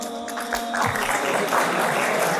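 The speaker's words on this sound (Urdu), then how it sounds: "یہ تالیاں بجانا کب بند کریں گے ہم؟" An audience at a motivational speaker's talk claps, a dense burst of applause rising after a moment and continuing steadily, fairly loud and close.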